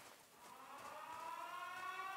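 A wailing siren in a horror video game set in the woods rises and sustains in a long, faint tone, its harmonics climbing slowly, heard alone without talk.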